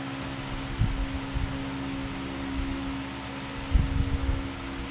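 An Aquila Pro 3D printer just powered on, its cooling fan giving a steady faint whir with a constant hum, broken by a couple of light knocks and rustles nearby.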